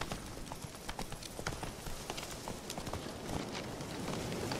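Horse hooves clip-clopping at a quick, uneven trot or gallop in The Witcher 3: Wild Hunt, a run of fairly close hoofbeats on the ground with steady background noise and no talk.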